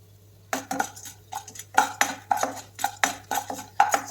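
A spoon stirs cumin and pepper frying in oil in a pan for tomato chutney, giving a steady run of sharp, close clinks and scrapes about twice a second over a low background hum.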